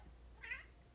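A single short, faint cat meow, close by, over a quiet background hum.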